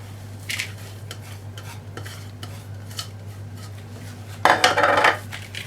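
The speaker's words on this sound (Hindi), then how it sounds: "इसको मिक्स कर लें अच्छी तरह और इसके साथ ही यहीं पर हम ऐड करेंगे जो हमारी" A mutton malai kebab mixture with cream, egg, fresh coriander and mint is mixed in a bowl. Soft scrapes and light utensil clinks sit over a steady low hum, with a louder stretch of vigorous mixing near the end and no voices.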